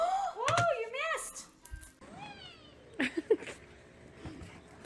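A cat meows several times in quick succession, rising and falling wails, with a few soft thumps and a pause before more short meows.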